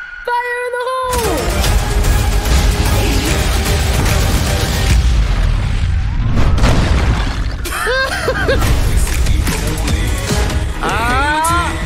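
Cinematic explosion in an animated family comedy scene, a loud sustained boom and crashing debris filling nearly twelve seconds, with shattering bursts, whistling streaks and scattered voices mixed into the chaos.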